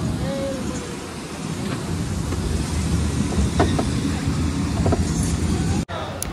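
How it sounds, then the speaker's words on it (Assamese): An amusement park ride train rumbling along, a loud continuous low rattle and rumble with a brief dropout near the end, while people chatter in the background. "ট্ৰেইনত উঠা হৈ গ'ল"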